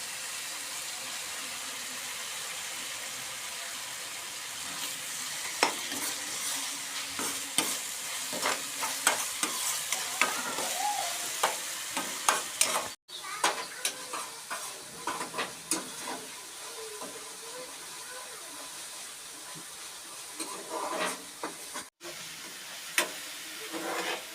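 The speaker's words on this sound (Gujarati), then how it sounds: "હવે આપણે આમાં નાખી દઈશું આ જે ડુંગળીના પાન કાપીને રાખ્યા છે એ" Chopped onion leaves frying in spices in a pan, a soft continuous sizzle with frequent scraping and clicking strokes of a spoon stirring, close but fairly quiet, with no one talking.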